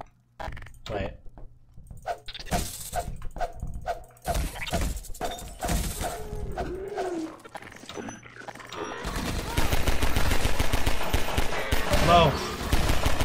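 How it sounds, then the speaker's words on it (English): Shooting in the video game Half-Life 2: Episode 1 starts as scattered sharp shots among talk and game sounds, then becomes a loud, continuous stretch of rapid gunfire in the second half. "Not even 2 seconds up the stairs and I'm already shooting"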